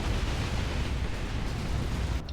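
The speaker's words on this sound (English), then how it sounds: "Ouch, Plasma Cannon getting a massive shot, killing a bunch of models." A plasma cannon shot in Dawn of War 2 during a 3v3 match, heard as a loud, sustained roaring blast with deep rumble filling the whole moment, no voices over it.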